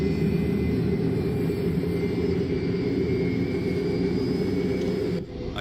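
Aircraft engine at raised throttle in a video game, a steady loud low drone with a continuous high whine that holds evenly throughout, then dips slightly at the very end.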